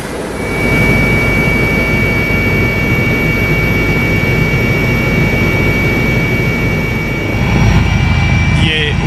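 Helicopter cabin noise during a Bihar election campaign flight over Bhagalpur: a loud, constant roar of engine and rotor, steady throughout, with a voice faintly present beneath it.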